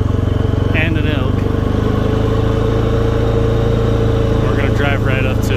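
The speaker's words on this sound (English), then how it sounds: "So I'm just gonna start the quad and drive up there and pick it up." A quad ATV engine runs and drives nearby with a steady, loud, buzzing rumble throughout, while a person talks briefly over it near the start and again near the end.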